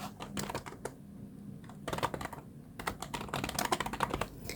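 Rapid clicking keystrokes on a computer keyboard typing text into a document, near and fairly quiet, with short pauses between bursts of typing.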